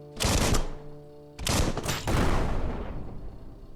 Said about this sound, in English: I can shoot a barrel.